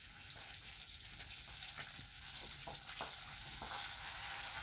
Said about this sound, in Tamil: கறிவேப்பிலை, பட்டை, பொரியட்டும்.